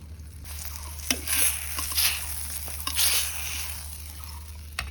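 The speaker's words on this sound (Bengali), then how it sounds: "বেগুন ভাজা শুরু হয়ে গেল।" Eggplant slices frying in hot oil, a steady close-up crackling sizzle with scattered sharper pops and a few brief surges of spattering, with no voices.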